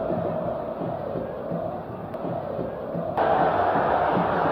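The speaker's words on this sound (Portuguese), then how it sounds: "Cada chutão para frente, a torcida festeja" A football stadium crowd at a Santo André match roars in a steady, dense wash of cheering that swells louder toward the end.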